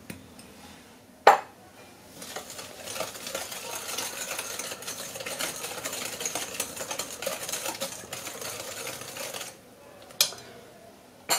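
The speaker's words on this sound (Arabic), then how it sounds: "حتى كنخلط جميع المكونات" Ingredients for cookie dough, including shredded coconut, being mixed in a bowl, giving a steady scraping and stirring noise that runs for most of the span, with a sharp knock near the start and another near the end, and no voices.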